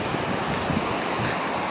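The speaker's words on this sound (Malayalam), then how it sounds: "ഇതാണ് അമ്പതീർത്ത വെള്ളച്ചാട്ടം" Ambatheertha Falls near Chikkamagaluru pours as a dense, continuous rushing roar of water, broadband and steady, heard from nearby without voices.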